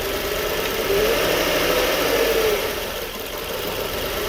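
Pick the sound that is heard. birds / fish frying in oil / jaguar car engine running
jaguar car engine running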